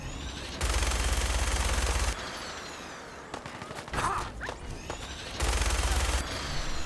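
Enemy gunners in Fallout 4 fire rapid automatic bursts, two sustained loud volleys separated by quieter shots and scattered impacts, with no voices.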